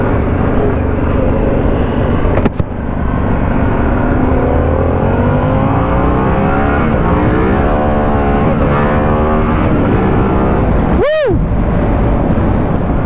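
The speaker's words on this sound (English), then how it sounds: "Yeah, this bike moves." Harley-Davidson Pan America motorcycle ridden at speed, with a loud continuous engine drone and wind roar and the pitch climbing as it accelerates.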